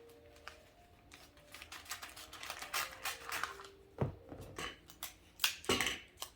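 Adhesive tape is pulled off a roll and pressed onto wrapping paper around a skateboard-shaped Christmas present, giving sharp ripping zips and crisp crinkling taps, close and quiet, with no talk.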